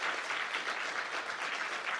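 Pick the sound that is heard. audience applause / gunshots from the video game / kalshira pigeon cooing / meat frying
audience applause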